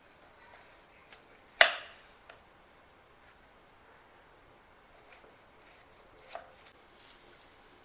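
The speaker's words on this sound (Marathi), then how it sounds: "केळीला कधी पण उभंच कापलं पाहिजे, कारण काप छान होतात" A knife cuts peeled raw banana lengthwise into pieces on a board, one sharp loud chop followed by softer scattered taps and slices in an otherwise quiet room.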